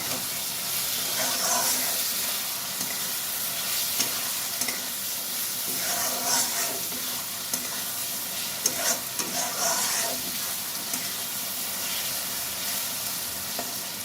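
Spices and red chilli powder for a vola fish curry sauté in a pan with a close, continuous sizzle broken by scraping stirs from a spoon, and no talking.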